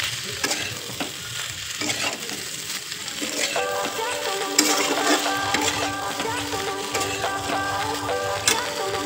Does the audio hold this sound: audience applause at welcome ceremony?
no